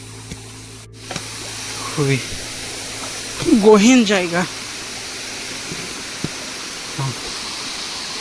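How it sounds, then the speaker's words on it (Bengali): The Ham Ham waterfall, hidden in dense forest near Sreemangal, gives a steady, distant broadband rush that hangs under the whole scene while someone talks briefly over it. "ঝর্ণার শব্দ শুনতে পাচ্ছি, কিন্তু এখন পর্যন্ত দেখি না।"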